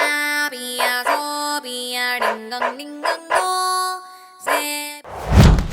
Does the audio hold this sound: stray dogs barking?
yes